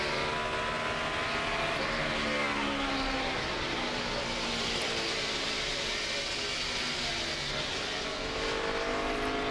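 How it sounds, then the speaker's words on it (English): NASCAR stock cars race at Phoenix in 2008, a continuous dense engine roar from the pack that holds steady at high volume throughout. "Carl Edwards now moving up to 7th position and moving in on the 11 car."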